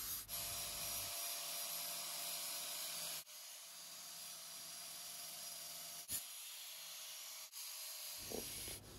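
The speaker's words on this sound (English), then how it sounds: "After a few minutes with a fine flapper wheel, the fairing's starting to look really good" A fine flap wheel grinds an alloy motorcycle fairing with a continuous broad, hissing whir. The tone shifts in pitch between several short breaks.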